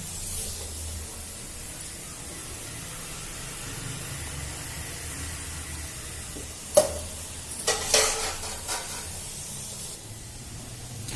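Spices sizzling in hot oil, a low steady hiss that flares into a sharp burst of spattering near the end, then settles again.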